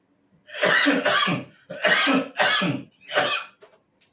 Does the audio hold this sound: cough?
yes